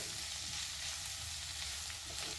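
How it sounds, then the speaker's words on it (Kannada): Onion masala frying in a pan hisses with a steady bright sizzle, broken by soft scraping strokes as it is stirred, close up and with no talk. "ಮಸಾಲೆ ಇಂಗ್ರೀಡಿಯೆಂಟ್ಸನ್ನು ಹಾಕ್ಕೊಂಡು ನೀಟಾಗಿ ಮಿಕ್ಸ್ ಮಾಡ್ಕೊಳ್ಳೋಣ"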